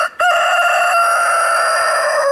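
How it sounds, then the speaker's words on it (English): A half-grown black Jersey Giant rooster on a homestead lets out one loud, close crow that holds steady for a couple of seconds without pause. "Is he gonna crow now that I turn on the camera?"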